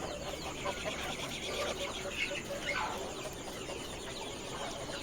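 Country hens and a rooster of a village parent flock cluck and murmur faintly throughout, with scattered short calls over a steady farmyard background and no clear crow.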